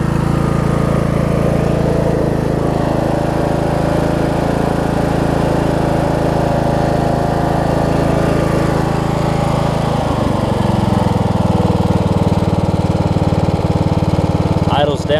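Craftsman riding lawn mower engine idling loud and close, a steady low drone that drops to a lower, rougher idle about two-thirds through.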